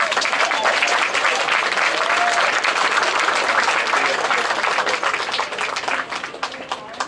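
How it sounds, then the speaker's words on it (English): A large audience at a military first-year milestone parade claps loudly for parents and families, dense sustained applause that fills the space and begins to thin slightly toward the end. "Let us give all parents and families here a big round of applause."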